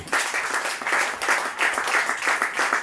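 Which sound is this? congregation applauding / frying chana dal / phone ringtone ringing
congregation applauding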